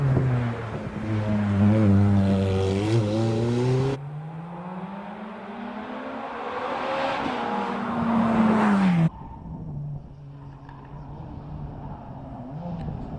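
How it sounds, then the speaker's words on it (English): An Audi S430 racing car with a V8 engine climbs the Prescott hillclimb, revving hard through several gear changes, with pitch rising and dropping in clear steps and the roar fading as it pulls away. "V8 engine, progressively developed to produce more and more power"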